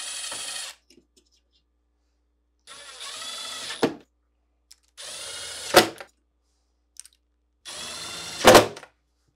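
A power screwdriver drives screws back into a GE refrigerator door hinge in four separate bursts, each a whirring buzz that ends in a sharp tightening click, close and clear.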